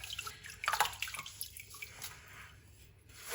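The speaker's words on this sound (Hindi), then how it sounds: "अनार को अच्छी तरह धो लेंगे।" Pomegranates rinsed in a bowl of water in a kitchen, giving brief close drips and splashes with a few sharp trickles, alone and fairly quiet.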